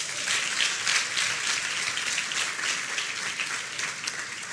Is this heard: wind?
no